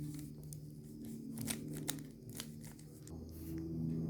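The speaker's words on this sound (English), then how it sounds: "Now let me just make it into some shuffle." A 3x3 Rubik's cube twisted to scramble it, with quick plastic clicks and rattling turns in a steady run at close range and no talk.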